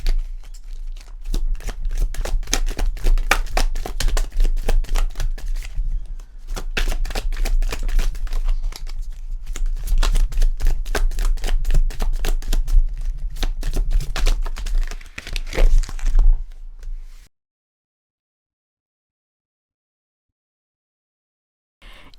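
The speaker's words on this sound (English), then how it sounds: "You all saw me shuffle those cards" Tarot cards are shuffled rapidly and repeatedly in close, crisp riffling bursts for about seventeen seconds, with brief pauses, then silence.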